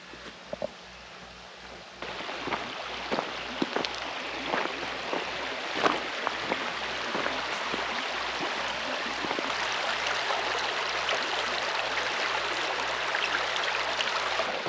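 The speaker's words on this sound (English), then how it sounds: "The sound of a bubbling brook in Alaska is always present and always loved and always appreciated" A bubbling brook in Alaska, near the Klondike Loop, gives a continuous close watery rush and babble, steady throughout with a few brief splashes near the start, and no voices.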